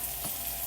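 Onion sizzles in a hot pan while pancit canton is being cooked, a brief steady crackling hiss close by with no voices.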